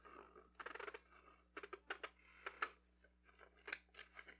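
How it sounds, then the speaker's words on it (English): Scissors snip through material while making a Christmas ornament, giving a quick series of close, crisp cuts in irregular bursts, fairly quiet overall. "So we're gonna get the scissors. We're gonna cut."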